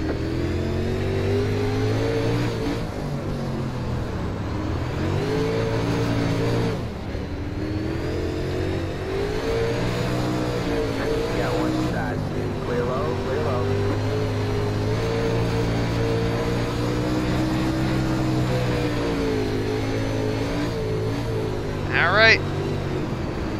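UMP modified race cars at Eldora in the iRacing game drone and rev as a field of engines accelerates at the green, a continuous loud pack roar with a voice talking over it.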